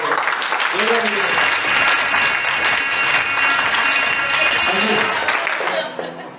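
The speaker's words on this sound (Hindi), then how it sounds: "जो जोरदार ताली बजाओ।" An audience at an MLM training session applauds loudly and continuously for about six seconds, a dense wash of many hands, with a voice briefly heard over it.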